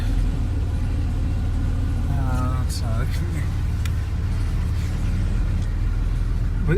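A Porsche 964 making odd noises while driving, with a loud, steady engine and road rumble throughout and a brief squeaky, whining sound partway through.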